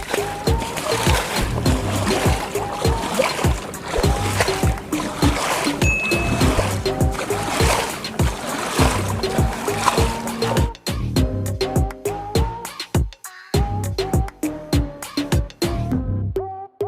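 Water splashing and trickling into a huge paper boat that has sprung a small leak, a busy run of splashes and drips that thins into sparser, sharper drops toward the end.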